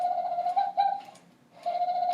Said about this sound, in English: the doves cooed